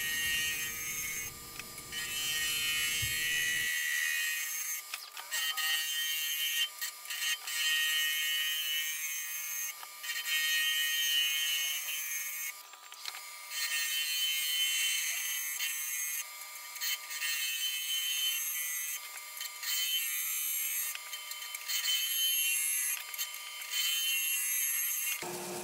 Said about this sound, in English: I'm using a bowl gouge with a 55 degree bevel, a modified fingernail.